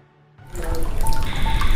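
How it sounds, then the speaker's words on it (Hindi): A homemade water pump trickles water out slowly, a steady running splash like a tap filling a sink, starting abruptly after a brief quiet moment and continuing close and fairly loud. "बहुत ही धीरे धीरे पानी निकल रहा है"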